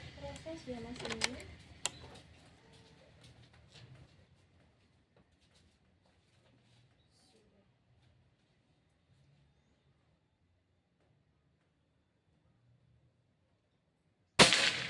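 A person talks briefly, then a long quiet stretch ends in a single sharp, loud shot from a PajeroGun Gen 5 air rifle.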